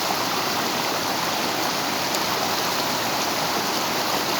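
Water pours over a waterfall at Sohala Bhauni dam near Khaira, Balasore, as a dense, steady roaring rush that is loud and close and continues unbroken, with no voices.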